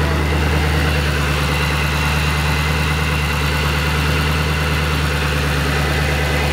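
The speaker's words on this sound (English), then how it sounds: "Sounds so nice with that Whipple charger on there." A 2008 Shelby GT500KR with a hand-built motor and a Whipple supercharger idles close by, giving a steady, deep, even rumble with a constant low throb and no change in pitch or level.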